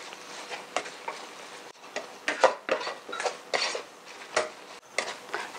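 Rice noodles with water mimosa tossed in a pan make irregular scraping and clattering strokes from a spatula on metal, close and fairly loud, with soft sizzle between strokes and no talk.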